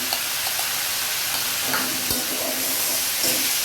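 Ground masala sizzling in a pan of tomatoes for a raw papaya sabji, with a steady frying hiss, occasional soft spoon scrapes from stirring, and no talking.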